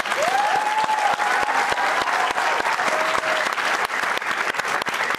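Loud, dense audience applause in a studio setting fills the stretch from start to finish, with a brief whistle or cheer rising early on and no talking.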